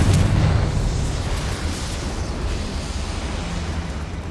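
A Confringo fire spell explodes in Hogwarts Legacy, a loud low boom at the start that decays into a sustained rumbling, crackling roar, with no talking over it.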